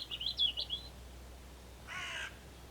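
A crow in open countryside calls a short run of harsh caws, fairly close and clear, followed by a fainter, rasping call a moment later over quiet background hiss.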